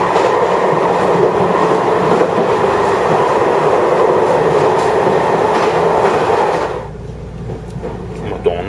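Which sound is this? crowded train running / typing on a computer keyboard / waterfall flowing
crowded train running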